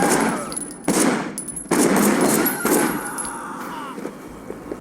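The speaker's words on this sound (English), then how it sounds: "The slow motion wall shooting also makes the gun combat even more varied." Rapid bursts of automatic gunfire from combat in the open-world video game Sleeping Dogs. Several loud volleys come in quick succession over a busy backdrop of game effects.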